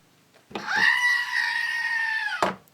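A goat screams once, a loud, harsh, drawn-out cry lasting about two seconds that cuts off abruptly, standing alone without any talk.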